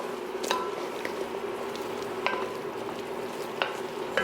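Vegan pasta being stirred in a pan with starchy pasta water, soft wet squishing and light sizzling with occasional sharp clicks of a utensil against the pan, close and fairly quiet.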